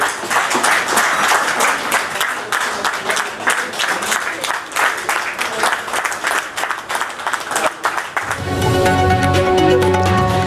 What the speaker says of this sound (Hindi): वफाकी वज़रान ने खड़े होकर तालियां बजाईं